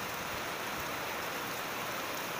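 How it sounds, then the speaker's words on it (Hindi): Steady rain falls outside a bedroom window as an even, continuous hiss, moderately quiet and with no voices over it. "बाहर बारिश हो रहा है,"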